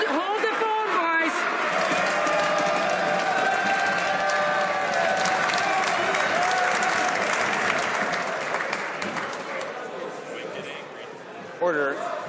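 Members of the House of Commons applauding at a parliamentary sitting, a sustained, loud roomful of clapping that fades toward the end, with voices mixed in.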